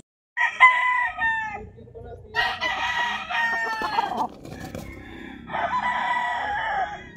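A rooster crows three times nearby, each call a loud rising and falling cry, with clucking and low farmyard noise between the calls.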